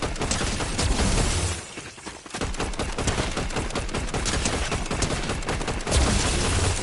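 Dense, continuous gunfire from Fortnite played on a PS5 in 120 FPS mode: rapid overlapping shots rattle loudly for the whole stretch, with a brief lull near the two-second mark before the barrage resumes.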